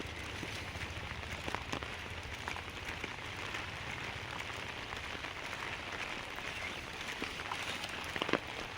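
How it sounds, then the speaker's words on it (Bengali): Steady rain falling outdoors, a continuous soft hiss with scattered sharper drop ticks, moderately faint and even throughout with no talking. "বৃষ্টিটা না হলে ভালো হয়, কিন্তু সে ঠিক বৃষ্টি হবে"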